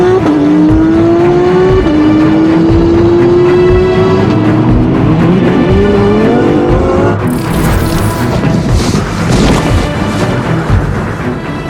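Race cars run on a racing circuit, engines rising and falling in pitch as they pass, loud and sustained, with a rougher burst of noise later on.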